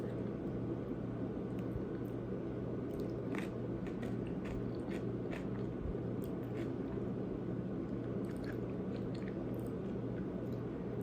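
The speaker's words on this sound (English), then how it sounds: "it's important, right, that we chew our food." Someone chews food close to the microphone, giving soft, irregular wet bites and squishes over a quiet background hiss.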